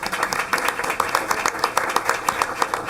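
Scattered hand claps from an audience at a school board meeting, greeting students as each one is recognized. The clapping is steady but thin, with a few sharper claps standing out.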